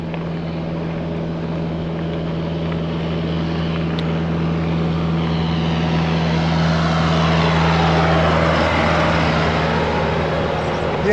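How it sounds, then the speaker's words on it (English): A heavy tractor engine drones steadily behind a bicycle, its low rumble growing slightly louder as it approaches, with no voices heard. "Oh, I believe we have a tractor behind us."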